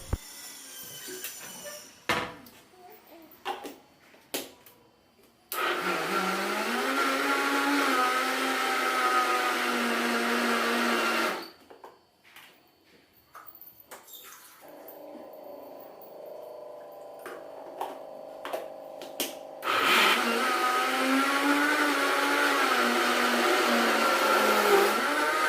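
A kitchen mixer grinder churns butter with cold water in its jar, running in two loud sustained whirring bursts separated by quieter stretches of handling clatter.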